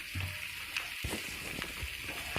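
Mushrooms frying with turmeric, chili powder and salt crackle steadily in a pan as they are mixed, short scraping stirs breaking through the constant sizzle.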